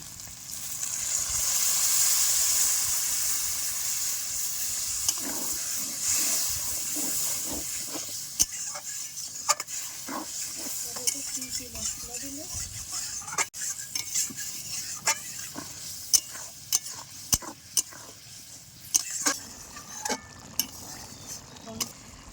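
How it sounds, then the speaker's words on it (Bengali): Soaked tamarind water poured into a simmering seed curry in a dhaba-style pan: a loud hissing sizzle and steam burst that slowly fades, followed by steady stirring with spoon clinks against the pot, close by. "যে তেঁতুলটা ভিজিয়ে রেখেছিলাম সেই জলটা দিয়ে দেবো।"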